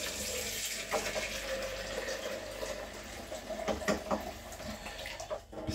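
Water runs from a kitchen tap while hamburger steaks are being made. The flow is faint and steady, with a few small clinks and splashes rising briefly above it.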